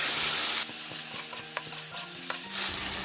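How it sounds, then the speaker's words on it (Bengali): Prawns are stirred in sizzling masala in a pan, a steady bright frying hiss broken by several quick scraping knocks of the spoon, close and clear with no voices. "দিয়ে দিলাম চিংড়ি মাছগুলো। একটু নাড়াচাড়া করে নিলাম।"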